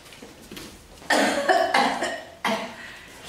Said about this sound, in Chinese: 妈你这咳嗽那么厉害